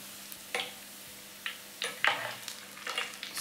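Garlic fries in hot oil in a home kitchen while being made into fried-garlic mayonnaise, giving short bursts of hissing sizzle that swell and fade several times as it is stirred, fairly quiet and without talk.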